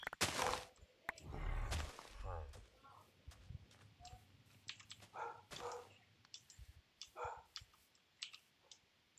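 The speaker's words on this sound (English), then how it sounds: "Lag and an angry dog." An agitated dog barks in short repeated bursts from nearby in a home, mixed with sharp computer keyboard and mouse clicking and occasional talk.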